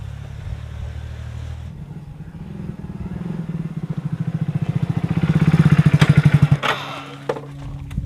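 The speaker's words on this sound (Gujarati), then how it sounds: "કોનો મોટરસાયકલ ગાજે" A motorcycle engine idles and then revs up in rapid pulsing bursts, growing louder and closer before cutting off, with faint background noise around it.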